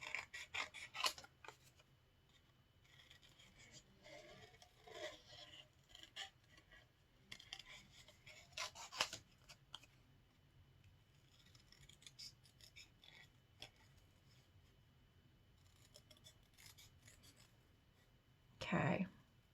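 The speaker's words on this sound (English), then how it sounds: "We're just going to trace this out and then cut." Scissors snip through paper, cutting out a traced snowman shape for a winter card craft: scattered close crisp cuts and rustles with quiet pauses between them, ending in a louder burst of handling.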